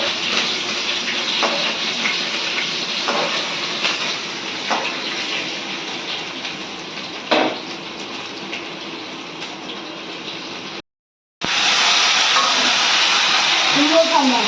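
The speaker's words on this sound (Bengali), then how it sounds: "পেঁয়াজ আর টমেটো ছাড়লাম" Onion and tomato hiss steadily in a hot pan alongside frying pointed gourd, a continuous close sizzle that cuts out briefly near the end and then returns louder, with faint tonal sounds underneath.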